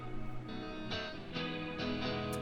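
A clean, unprocessed electric guitar plugged direct (DI) into a laptop plays a few sustained chords with bright, ringing strums, recorded dry with no amp colour.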